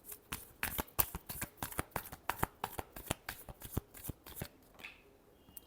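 Tarot cards are shuffled by hand in a rapid run of crisp riffling snaps, about two dozen sharp flicks over several seconds before trailing off, close and quiet with no talk.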